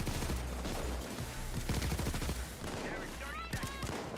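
Sniper and other gunfire in the heist shooter Payday comes as a rapid scatter of fairly faint, distant shots, with talk mixed in among the crackling volleys.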